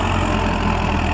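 A Swaraj 744 XT tractor diesel engine idles steadily at close range, a constant low rumble with a fine repetitive pulse that stays level throughout, with no talk.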